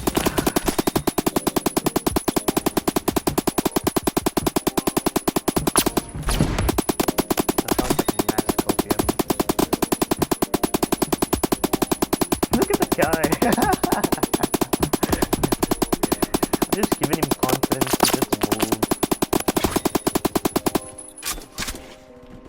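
Sustained automatic gunfire from a first-person shooter, Phantom Forces, rattling almost continuously in rapid bursts with a brief lull, while a player talks over the shooting.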